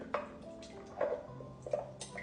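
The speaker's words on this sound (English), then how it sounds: "I'm just gonna mix the water and the starter together." Water and sourdough starter are stirred together in a container, giving soft irregular wet clinks and squelching taps, a few distinct strikes close up and fairly quiet, without talk.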